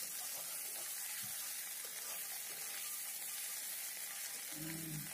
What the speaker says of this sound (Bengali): এই দেখুন, মশলাটাকে আমি একটু ভালো করে ভেজে নিচ্ছি।